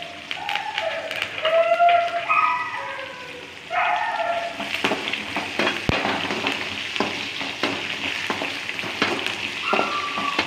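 A sprig of curry leaves drops into hot oil for a mustard gravy and sets off a loud crackling, spitting sizzle that settles into steady frying, with sharp pops and brief voices early on.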